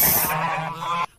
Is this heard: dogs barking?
no